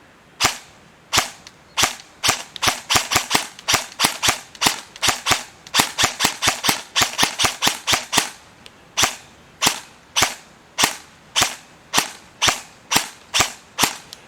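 A 10-plus-year-old KWA airsoft gun fires on semi-auto, a long run of sharp cracking shots in an uneven rhythm with gaps where rounds misfire, heard fairly close with no talking.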